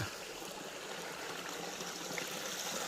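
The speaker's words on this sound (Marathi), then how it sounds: "इथे खालच्या साईडला सतत पाणी वाहत जातं" Water streams steadily below a small check dam near a village well at Nargoli, Dapoli, a continuous broadband rush that holds even and fairly close without pause.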